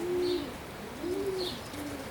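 Oriental roller pigeons cooing in a loft among young birds; three soft, drawn-out coos repeat at an even pace, close and clear against a quiet airy background.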